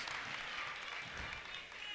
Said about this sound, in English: Garvey gets his standing ovation coming to the bench after that Euro step